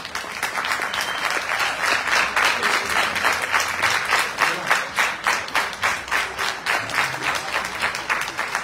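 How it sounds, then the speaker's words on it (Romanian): A crowd at an outdoor town-days folk concert in Sângeorz-Băi applauds a senator, producing sustained, loud clapping that settles into a rhythmic, unified beat, with no talking over it. "Aplauze pentru domnul senator al nostru drag,"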